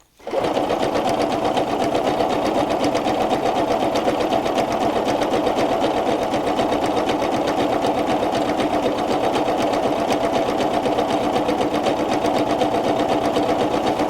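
A Pfaff ambition 610 sewing machine runs without pause while stitching decorative satin stitches at a short stitch length, giving a close, loud, even whir with a rapid steady needle rhythm.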